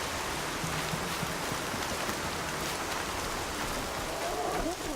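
Steady rainfall in Horizon Zero Dawn with a dense, even hiss throughout, and faint low murmurs underneath, like distant voices or tones blended into the downpour.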